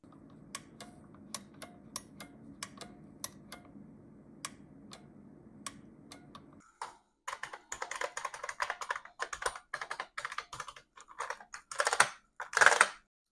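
A loud old mechanical keyboard being typed on, first with sparse, sharp single keystrokes over a low hum, then with fast, dense clattering bursts of clacks close to the microphone.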